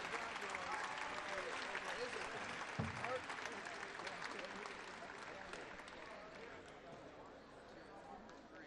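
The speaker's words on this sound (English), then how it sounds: "One more round of applause for this group." An induction ceremony audience gives a round of applause, a dense wash of clapping from a large crowd that gradually thins and softens over several seconds, with faint voices underneath.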